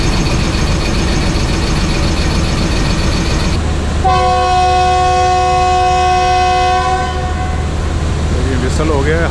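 Sir Syed Express private train sounding a long, loud horn blast with steady harmonic tones, breaking through continuous rumbling rail and carriage noise; the horn runs for several seconds before fading back into the running-train roar.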